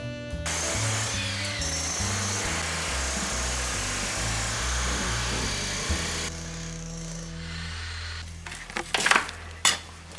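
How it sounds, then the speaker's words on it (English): A light rented jackhammer pounds away at a concrete floor with a loud, continuous rattling roar, followed by sharper knocks and scraping as debris shifts. "We rented this jackhammer at Home Depot, and it's light."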